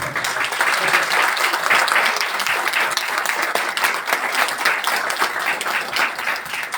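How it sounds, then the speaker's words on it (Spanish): Sustained, dense audience applause fills a conference hall after a talk on Star Wars, holding at a steady loud level for the whole stretch. "otro aplauso para Juan"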